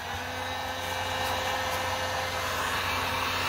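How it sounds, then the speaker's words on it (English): Heat gun running on high while bonding pool noodles together, a loud continuous blowing whir with a steady airy hiss, close and unbroken throughout. "I shoot the heat gun at the pool noodles"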